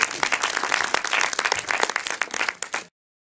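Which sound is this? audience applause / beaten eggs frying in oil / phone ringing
audience applause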